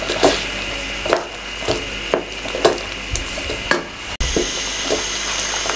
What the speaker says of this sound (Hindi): इस टाइम पे आके और इसकी अच्छे तरीके से भुनाई कर लें।